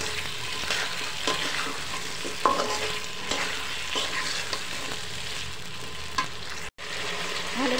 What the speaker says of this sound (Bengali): লবণ দিয়ে আরও কিছুক্ষণ সময় আমি নেড়ে চেড়ে কষিয়ে নেব।